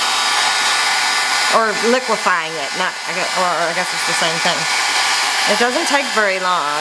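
A heat gun blows steadily and loudly throughout while melting embossing powder for a shaker flip page card, with a person talking over the constant whooshing drone.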